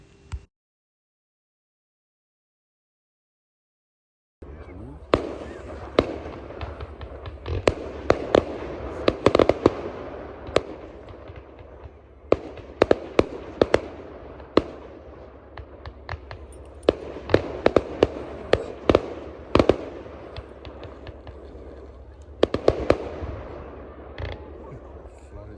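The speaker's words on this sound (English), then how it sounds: "there was a firework display held on the grounds, which was held for the local school." A fireworks display over school grounds at night bursts in loud, sharp cracks and booms, arriving in irregular clusters with brief lulls between volleys, after a near-silent start.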